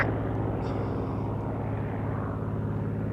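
Supermarine Spitfire flying at an evening air show at Shuttleworth, a steady droning piston engine with a pulsing propeller throb, sustained and fairly close.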